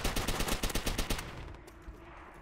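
Rapid automatic gunfire in Call of Duty: World at War multiplayer, a close, loud rattle of quick shots for just over a second before it breaks off into quieter background battle noise.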